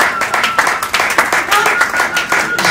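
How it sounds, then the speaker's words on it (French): A congregation applauding at a church mourning ceremony, with steady rhythmic clapping from many hands, fairly loud and close, and voices mixed in. "est-ce que tu peux vraiment acclamer pour le Seigneur?"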